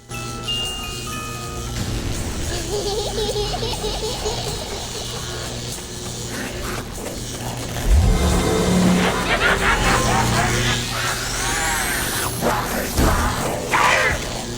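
The mystery box relocating in Black Ops 2 Zombies on the Verruckt map, heard as a dense wash of game noise with a sudden low swooping burst midway and rising electronic whines near the end.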